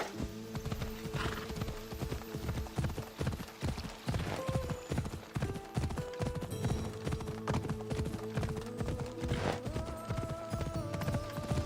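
Galloping horse hooves in Assassin's Creed Odyssey, a fast, rhythmic clip-clop that runs steadily throughout over layered game music and ambience.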